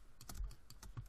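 Several soft, quiet clicks from computer keyboard keys while working in Adobe Illustrator CC 2014, irregularly spaced and close, with no talking.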